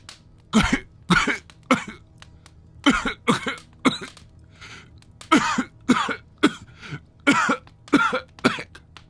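A harsh, repeated cough comes in a long fit of about a dozen bursts in uneven pairs and clusters, close and loud, with no talking.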